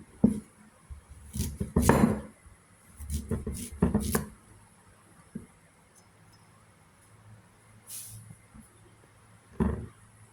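A knife dices ginger into cubes on a cutting board in a home kitchen, giving irregular bursts of chopping and scraping separated by quieter gaps.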